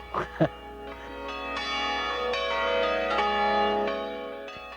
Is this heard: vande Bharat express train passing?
no